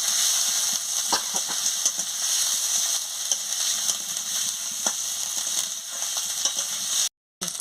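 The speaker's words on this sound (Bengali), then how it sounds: "আলু দিয়ে ভালো করে মশলার সঙ্গে কষিয়ে নিচ্ছি" Potatoes sautéed with spices in a pan, a steady close sizzle with repeated spatula scrapes and taps, cut by a brief silent gap near the end.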